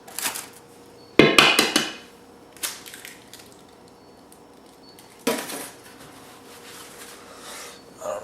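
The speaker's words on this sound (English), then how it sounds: "So we're just going to take 4 eggs. Dump those in the mix." Four eggs are cracked and dumped into a meatloaf mix, giving a burst of sharp shell cracks and clatter near the start, then a second splat and scrape later, with quieter handling sounds between and no talking.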